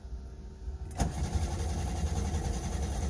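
A car engine with a knock cranks and catches about a second in, then runs with a steady rumbling idle; a faint electrical whine of the fuel pump is audible before it starts.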